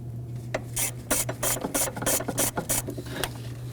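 A ratchet wrench works loose the last intake manifold bolt on a 2018-2024 Chevrolet Equinox 1.5L four-cylinder, giving close, repeated raspy clicking strokes in an irregular back-and-forth rhythm over a steady low hum.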